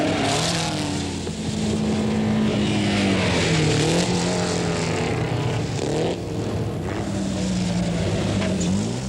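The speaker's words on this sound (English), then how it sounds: "Even Pablo's Delage number 9 cannot match the Peugeots" Early motor racing cars, a Delage and Peugeots, roar past together in a sustained loud engine drone, with shifting pitch as the cars accelerate and pass close by.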